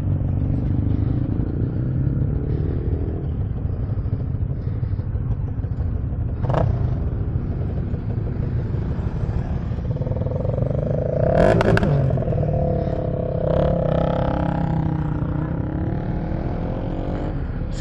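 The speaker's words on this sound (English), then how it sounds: "Semua motor laju-laju." Honda CBR150R motorcycles ride together along a road in the rain, giving a constant close engine and wind rumble with passing engine surges and a clatter near the middle.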